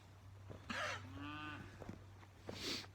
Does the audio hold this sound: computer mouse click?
no